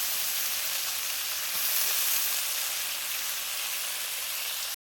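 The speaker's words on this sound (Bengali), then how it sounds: "দেখো এখানে আলু কড়াই বেগুনটাও ভেজে নিয়েছি" Potato, chickpeas and eggplant frying in a wok give off a soft, even hiss and crackle that holds steady and quiet, with no voices, and then cuts off abruptly.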